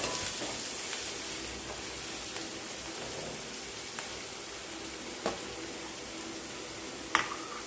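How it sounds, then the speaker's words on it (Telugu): Onion and green chillies being stirred in a frying pan, giving a steady, soft sizzle throughout with a few light clicks of a spoon against the pan. "ఇప్పుడు ఉల్లిపాయ పచ్చిమిర్చి వేసుకొని కలుపుకోవాలి"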